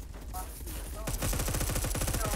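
Dense bursts of rapid video game gunfire crackle close and loud, building into a fast rattling fusillade after a moment of muffled noise.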